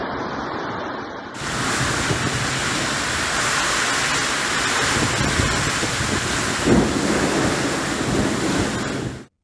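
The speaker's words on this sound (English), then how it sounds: "amid the heavy rain that was bucketing down" Heavy rain pours down during a violent storm with strong winds in South Africa, a loud, dense, unbroken roar of rain and gusting wind that runs steadily before cutting off abruptly.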